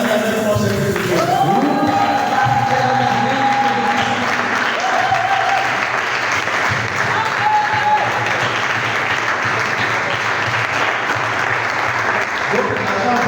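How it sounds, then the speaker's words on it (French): A church congregation bursts into loud, sustained applause and cheering that fills the room, steady clapping lasting throughout with voices mixed in. "Qui peut acclamer avec moi cette vérité?"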